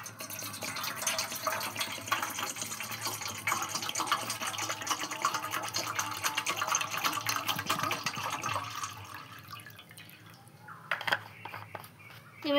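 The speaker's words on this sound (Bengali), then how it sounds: "প্রথমে 1 লিটার জলকে আমি গামলার মধ্যে ঢেলে দিচ্ছি।" One litre of water pours into a basin as a continuous splashing gush, then tapers to drips and small splashes near the end.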